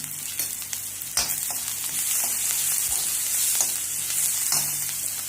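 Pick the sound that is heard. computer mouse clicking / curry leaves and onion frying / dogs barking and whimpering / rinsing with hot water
curry leaves and onion frying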